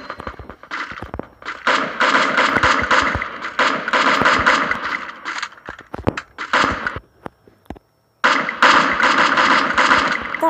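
Rapid gunfire in the mobile battle royale game Free Fire, dense bursts of automatic shots repeating almost continuously for several seconds, a brief pause near eight seconds, then firing resumes loud and close.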